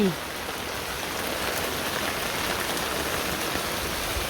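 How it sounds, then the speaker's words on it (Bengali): Heavy monsoon rain pours steadily in a rural Bengali village, a dense, continuous hiss of drops drumming on surfaces from start to finish, close and loud with no breaks. "অনেক বৃষ্টি নামে খালি বৃষ্টি"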